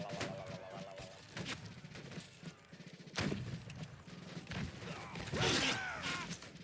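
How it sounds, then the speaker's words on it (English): Grapeshot cannon fire in the Civil War game Battle Cry of Freedom: a sharp, loud blast cuts through busy battlefield noise of hooves, creaks and scattered shots, with a second heavy burst following a couple of seconds later. "Oh, someone's using a grape shot."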